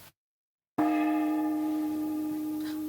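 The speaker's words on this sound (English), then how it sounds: "It's the gong to say breakfast's ready." A breakfast gong is struck once indoors, a clear metallic ring with a bright attack that hangs and slowly fades, heard alone after a brief silence.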